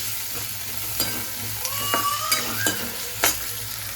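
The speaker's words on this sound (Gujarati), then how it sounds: "હવે એમાં ટમેટા અને મરચાં નાખી દઈ એને થોડું હલાવવાનું છે" Tomatoes and chilies sizzling in a pan while a spoon stirs, giving a steady fry hiss with a few sharp metallic scrapes and clinks, close up and without voices.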